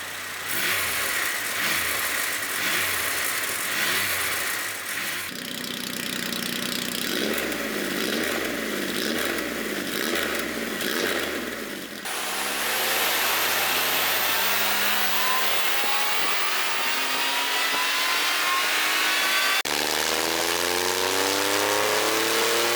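A Triumph Rocket 3 motorcycle, its exhaust mufflers fitted with a bimodal valve, revs repeatedly with a throaty exhaust roar, then climbs in a long rising acceleration, loud and close with no voices.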